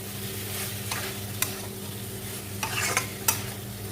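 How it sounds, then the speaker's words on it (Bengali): Creamy soya chunks in a Bengali-style gravy are stirred in a cooking pan with a soft, continuous sizzle. A few sharper scrapes of the spoon against the pan stand out, close and clear, with no talking. "এটা এইভাবে একটুখানি মিনিট দশেক এরকম করে নাড়তে হবে"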